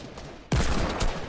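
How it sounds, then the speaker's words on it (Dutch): A sudden burst of rapid gunfire breaks out after a brief quiet moment, loud and sustained like a video game firefight. "Ik hoor ook schoten."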